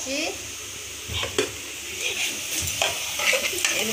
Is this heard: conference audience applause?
no